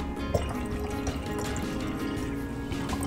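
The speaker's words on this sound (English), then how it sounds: "I'm just gonna pour the water into here." Water is poured into a small container for a crystal-growing craft kit, giving a steady close trickle and slosh that carries on throughout.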